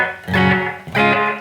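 Electric guitar through a Strymon BigSky reverb pedal, amp placement set to the front with default settings: two loud, close strummed chords, each blooming briefly with a short wash of reverb tail, no voice present.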